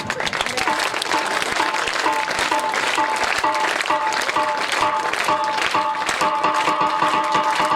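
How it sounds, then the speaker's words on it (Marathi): An audience at a farewell ceremony claps in a sustained, dense wave of applause as someone is honoured with a memento, steady and loud from start to finish, with a voice faintly underneath. "सर्वजण टाळ्या वाजवा, हात वरती करू."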